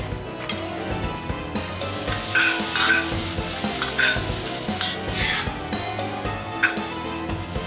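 Pork sizzles in a hot pan with sesame oil while it is stirred and scraped, with clinks of utensils against the pan over a steady frying hiss.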